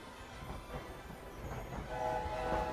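A steam train in the video game Hogwarts Legacy rumbles along faintly, with soft rhythmic clatter and a sustained horn-like tone rising near the end.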